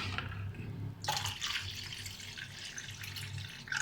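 Water is poured into a mix of tamarind and asafoetida for pani puri, heard as a soft continuous splashing pour under low background hum, with a brief break partway through.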